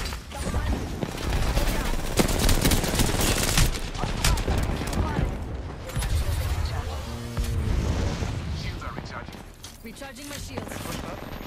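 Video game gunfire in a close-quarters multiplayer firefight, with dense rapid shots and booms nearly continuous throughout, under excited player voices calling out.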